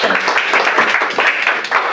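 Audience at a presentation-skills event applauding after a speaker's talk, a dense, steady wash of many hands clapping at close range throughout.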